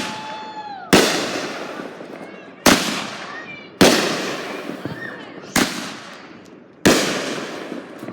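Fireworks set off for the Fourth of July burst in five sharp, loud blasts a second or so apart, each trailing into crackling decay close by.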